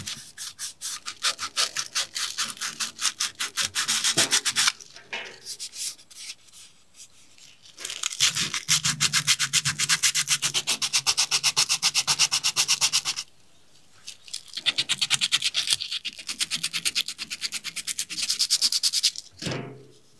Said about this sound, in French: C'est parti pour une longue session de ponçage.